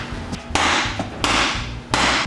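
A hammer strikes a stuck part in a fab shop, three sharp metallic blows spaced about two thirds of a second apart, each followed by a ringing hiss, loud and close with no talk.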